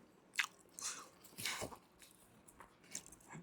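Crunchy jalangkote, a fried Makassar pastry with egg inside, bitten and chewed up close, with crisp crackling bites and softer chewing across a few seconds, no talk.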